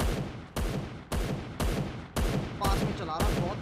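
Rapid bursts of close-range gunfire from the Free Fire battle game, about six sharp volleys in quick succession, with a brief voice cutting in near the end.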